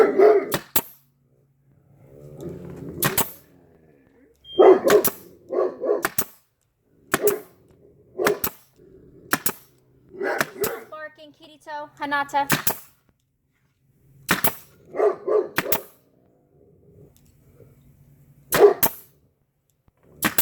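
A pet dog named Sakura barks indoors beside someone making a heat-press craft mat; a series of sharp, loud barks comes in short bursts, scattered between stretches of a person talking.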